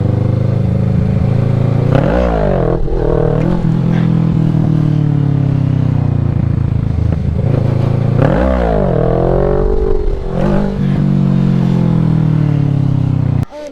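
A small motorcycle engine revs up in two strong, rising bursts, dropping back between them, then settles to a steady idle before a brief clunk as the foot brake is applied; loud and close.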